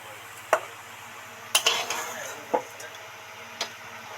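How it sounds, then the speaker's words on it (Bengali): A metal spatula scrapes and clinks against a pot while stirring rice into milk, giving several distinct taps and a short scraping stretch at close range over a low background hum. "আস্তে আস্তে খুন্তি দিয়ে দুধের মধ্যে চাল কটা উঠিয়ে দেব"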